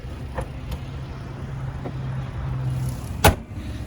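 A 2019 Dodge Grand Caravan SXT with a 3.6 liter engine idling smoothly, a low, steady hum close by, with a couple of faint clicks and one sharper knock near the end.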